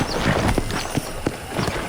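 Horse hooves clip-clopping in the video game Red Dead Redemption, a steady rhythm of several close, crisp hoof strikes on firm ground over a light background of ambient noise.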